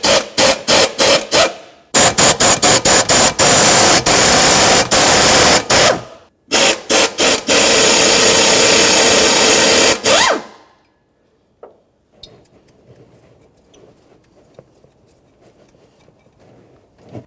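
An air or power impact tool on a 1999-2006 Chevrolet Silverado 1500 spins out three 14mm harmonic balancer mounting bolts in loud, close bursts of rattling hammering separated by short pauses, followed by quiet handling clicks.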